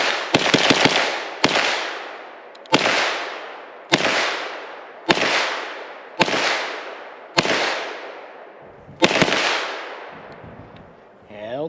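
Grand Power Stribog SP9-A3 braced 9mm pistol firing a magazine: seven loud, sharp reports spaced about a second apart, each with a long ringing outdoor decay, followed by a faint metallic clack at the end.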